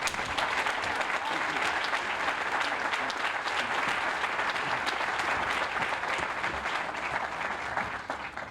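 An audience at the opening of a college allied health center claps steadily in a dense, continuous round of applause that stays even and fairly loud before tapering slightly at the very end.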